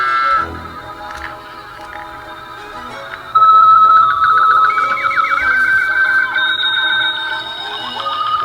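Electronic sound effects from a UFO cow abduction toy: shrill siren-like warbling tones and beeping melodic phrases, close and loud, becoming brighter and busier partway through.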